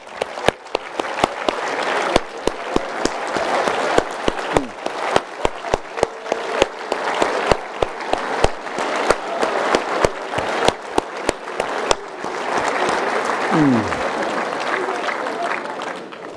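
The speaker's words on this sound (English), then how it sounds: "everybody in this damn room should stand up and give themselves a round of applause" An awards-ceremony audience gives a sustained round of applause, dense clapping with sharp individual claps standing out near the front, and a voice briefly heard near the end.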